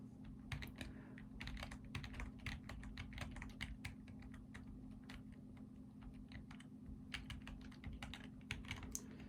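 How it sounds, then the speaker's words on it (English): Keys clack on a computer keyboard at an unhurried, uneven pace, soft individual taps over a low steady hum. "we could do like slow typing. Slow typing sounds good."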